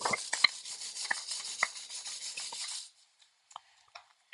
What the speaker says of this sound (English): we want to clean up the surfaces where this new heater element is going to mate to. And we can do that with our wire brush here.